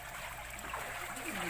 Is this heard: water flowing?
yes